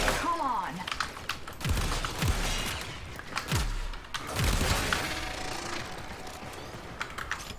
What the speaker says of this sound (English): It is an automatic rocket launcher, essentially.